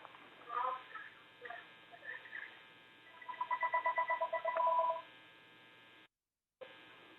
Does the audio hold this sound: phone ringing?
yes